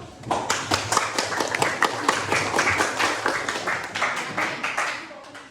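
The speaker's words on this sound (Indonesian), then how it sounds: "Tepuk tangan dulu." A classroom of junior high school students at SMP Negeri 6 Merauke claps in a brisk, uneven burst of applause that lasts several seconds at close range.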